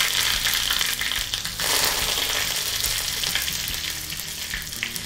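Loud, continuous sizzling and crackling of mustard seeds and sesame seeds tempering in hot oil, close by and steady throughout.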